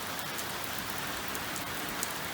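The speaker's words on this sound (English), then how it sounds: "Oh, look at it rain." Steady rain falls in a continuous, even hiss on outdoor surfaces during a light thunderstorm, with no distinct thunder and no voices.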